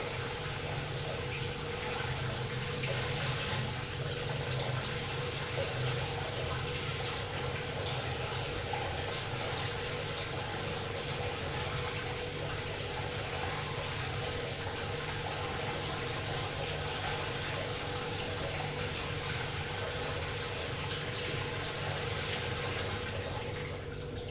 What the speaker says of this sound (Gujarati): પૌવાને એકદમ પરફેક્ટ ધોવાના, તો સોફ્ટ થશે.